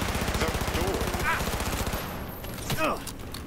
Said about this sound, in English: What is shooting me? Don't shoot me.